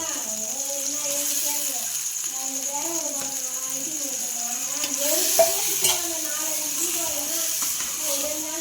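Crab sizzling in a pan as it fries down into a thick thokku, a steady frying hiss with occasional stirring scrapes, close and moderately loud, while a person talks over it throughout.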